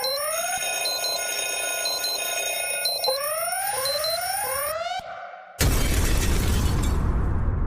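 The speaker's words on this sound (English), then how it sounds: "go ahead and hit the TMI alarm." A comedic TMI alarm sound effect on a talk show: repeated rising electronic siren sweeps with a high beeping ring, suddenly giving way to a loud crashing burst of noise like shattering or an explosion.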